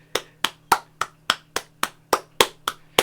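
People outdoors clap for the NHS in a steady series of about eleven sharp, evenly spaced claps over a low hum, with no talking.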